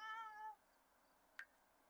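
A pet cat in The Sims 4 gives a single clear, tonal meow that fades out, followed by near silence with one tiny click.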